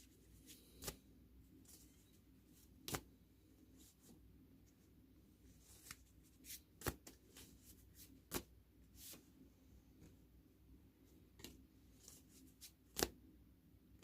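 A tarot card deck being handled and shuffled in a quiet room, with scattered soft rustles and several sharp snapping card flicks at irregular intervals over a low steady background hum.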